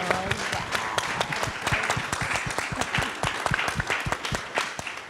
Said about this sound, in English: Can we give Marsha a really big round of applause?